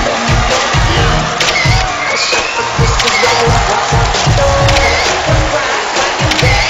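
A large audience applauds and cheers loudly and without a break to welcome a guest onto the stage at a film festival event, with scattered shouts over dense clapping.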